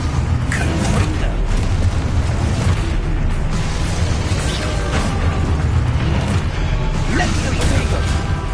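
A Confringo fire spell explodes in the game Hogwarts Legacy, with booming bursts and crackling impacts amid ongoing combat, while a voice talks over the action.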